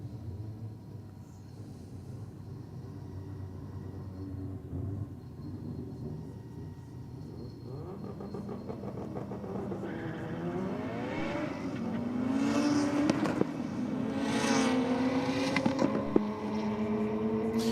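A Nissan Pulsar and a VY Commodore line up for a drag race. A low engine rumble gives way to rising, roaring revs that climb in pitch and grow louder toward the end.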